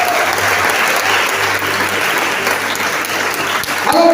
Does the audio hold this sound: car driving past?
no